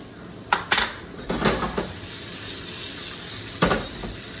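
Tomatoes drop into hot olive oil in a pan, with a few sharp clanks of utensil on metal over a constant soft sizzle.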